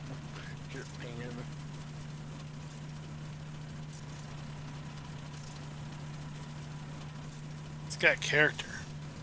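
John Deere 4755 tractor engine idling in a farming simulator game, a steady low hum held close under someone talking, with a couple of brief game sound blips near the end.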